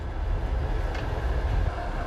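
A Trans-Siberian passenger train running, heard as a continuous low rumble and rolling rail noise from inside the carriage, steady and fairly loud, with no voices.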